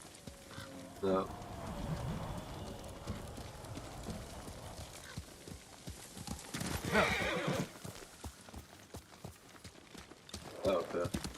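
Horse hooves clopping in the video game Ghost of Tsushima, a steady run of hoofbeats broken by loud neighs and whinnies, close and clear, with speech mixed in at times.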